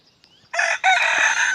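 A rooster on a small poultry farm crows once, close and loud, a strained two-part call lasting about a second after a brief quiet lead-in.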